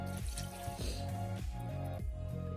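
A cup of liquid poured into a pot of cheeseburger soup, a steady gurgling, splashing stream close by with repeated rhythmic glugs and no talk.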